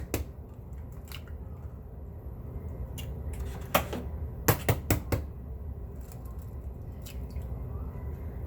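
Several eggs cracked one after another into a bowl while preparing a simple chili dinner, giving a few quiet, sharp taps and squishy drops clustered together over a low room hum, with no talking.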